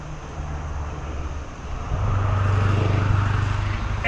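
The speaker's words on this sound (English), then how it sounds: "some guy in a really loud diesel truck decided he wants to ruin this" A loud diesel truck rumbles past nearby, its low engine drone swelling and holding steady over a few seconds, with no talking.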